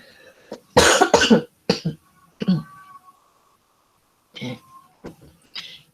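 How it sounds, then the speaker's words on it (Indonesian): Several harsh coughs close up, a tight burst of two or three followed by a few more spaced coughs in a quiet room. "Maaf saya batuk."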